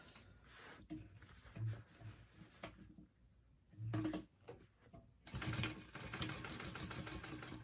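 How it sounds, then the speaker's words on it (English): A sewing machine runs in bursts as it topstitches a rectangle around a handbag, its buzzing stitching stopping and restarting, then running steadily near the mic with a brief quiet pause partway through. "now we're going to top stitch just a big old rectangle around that"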